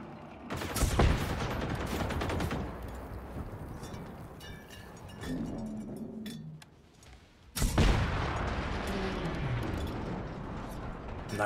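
Bursts of rapid gunfire and heavy rocket blasts in the video game Generation Zero, loud and close, with a quieter stretch in the middle before another explosive burst erupts.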